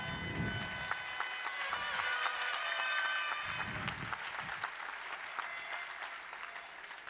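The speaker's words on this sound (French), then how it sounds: "On peut les applaudir bien fort." A crowd at a May Day labour celebration applauds the people of Tubize, a sustained wash of clapping that fades partway through. Low, bursty rumbles and occasional sharp claps run underneath.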